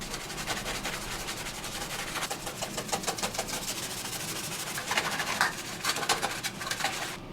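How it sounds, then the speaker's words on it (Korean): Rust is scrubbed off a stainless steel toilet paper holder in a bathroom, a continuous faint rubbing and scraping with quick repeated strokes and no speech. "휴지거리를 닦아볼게요"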